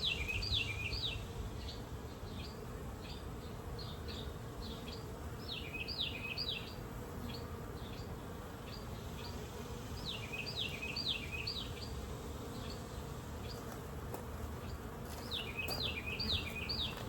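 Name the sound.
honeybees buzzing around an open hive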